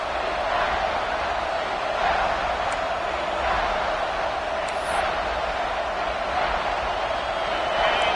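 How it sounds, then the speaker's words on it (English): A big football stadium crowd roars steadily throughout as a defense holds near the goal line, a dense, continuous wash of cheering with a few louder swells and faint whistles above. "this big crowd doing everything possible to inspire this defense down here near the goal line"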